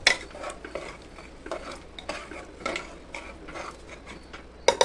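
Rice, mixed vegetables and water are stirred together for pulao in a pressure cooker, with a spoon scraping and clinking against the metal in an irregular rhythm, close and fairly loud, with no speech.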